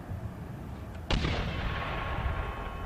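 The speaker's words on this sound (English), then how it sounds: "mortars, because they can just devastate you as you attack" A single heavy mortar blast from an Empire: Total War battle booms in after a moment of low rumbling ambience, then rolls off in a long, loud decaying roar.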